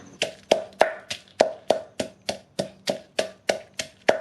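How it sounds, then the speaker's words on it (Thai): Rapid, steady thuds of a pestle pounding dried chilies and bird's eye chilies in a mortar, about three knocks per second, close and sharp, with no talking. "หนูก็จะโขกพริกนะคะ"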